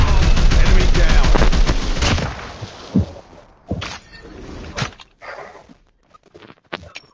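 Rapid automatic gunfire in a first-person shooter, a loud continuous burst at the start that breaks into scattered single shots and clatters, close and punchy.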